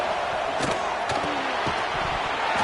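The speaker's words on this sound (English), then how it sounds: "Listen to the crowd energy here in the early going." Stadium crowd at a Broncos versus Bears football game makes a dense, continuous roar with scattered sharper claps and shouts, loud and enveloping throughout.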